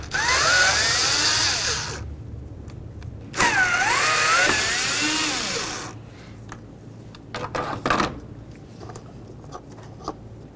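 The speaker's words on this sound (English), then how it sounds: "Now we can remove our two T20 mounting screws." Power driver backing out two T20 mounting screws on a 2010-2013 Ford Transit mass airflow sensor, heard as two loud whirring bursts of a few seconds each, followed by softer clicks and handling knocks.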